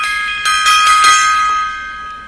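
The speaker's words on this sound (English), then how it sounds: "Gong time there." A gong sound effect rings out during a live pro-wrestling and classic-TV podcast, a bright metallic shimmer swelling with a few repeated strikes before slowly fading, with no talk over it.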